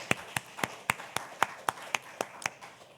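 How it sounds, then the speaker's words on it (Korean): Church congregation at a Sunday morning worship service claps in an even, steady rhythm, a dozen or so crisp, quiet claps spaced evenly apart with no talking. "박수로 축복하고 격려하겠습니다"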